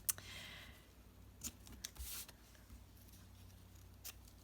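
Scissors trim ribbon in a few short, quiet snips with small rustles between them, close by in a quiet room.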